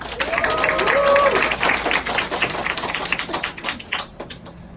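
Applause from the attendees at a Twins group business meeting, loud at first and gradually thinning toward the end, with voices and some tonal sounds mixed in.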